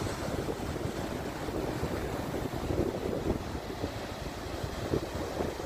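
Sea waves wash in a steady broadband rush with wind blowing across the microphone, continuous and fairly close, with no voices over it.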